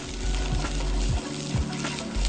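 Steady sizzling and frying of shallots in a hot pan, with a few soft stirring scrapes over the continuous crackle.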